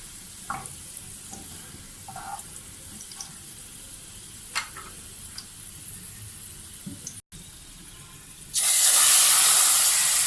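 Quiet kitchen clatter and a few clicks, then a sudden loud, steady sizzle as curry leaves hit hot oil with browned cumin, garlic and onion for the last couple of seconds.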